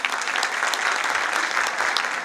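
A crowd at a company felicitation ceremony applauds new Crown Ambassadors, full, loud, continuous clapping from many hands filling the hall.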